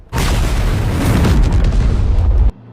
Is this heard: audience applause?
no